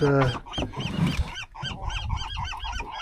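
A flock of around fifty seagulls trailing behind a fishing boat, with many harsh, honking calls overlapping continuously, loud and close.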